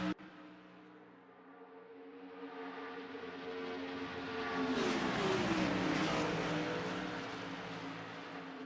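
Race cars in a racing video game drive past during a Daytona event, with a steady engine drone that swells and sweeps as the cars pass, then settles into a loud sustained roar, with no talk.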